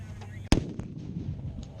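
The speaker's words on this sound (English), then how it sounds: "So this is a 25-pounder field gun. We've loaded the shell and we're going to fire it" A 25-pounder field gun fires a shell at an outdoor show, a single sharp blast followed by rumbling echo and distant crowd noise.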